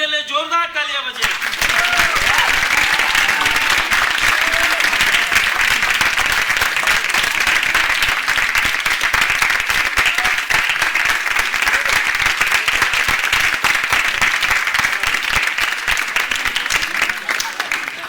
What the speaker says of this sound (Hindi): इनके लिए जोरदार तालियां बजे